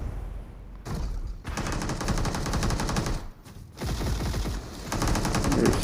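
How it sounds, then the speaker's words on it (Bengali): Rapid automatic gunfire from a PUBG match rattles in dense bursts nearly throughout, with two brief lulls between volleys. "ও ভাই, ওই সাইডের থেকে যেন ফায়ার দিচ্ছে।"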